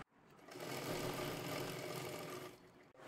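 A sewing machine stitching the hem of a small girl's lehenga runs in one steady, quiet mechanical whir for a few seconds before stopping abruptly.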